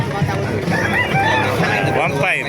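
Roosters crow amid a busy Calumpit, Bulacan chicken market where sweater gamefowl are sold, the crows rising repeatedly over steady crowd babble and voices of bargaining traders.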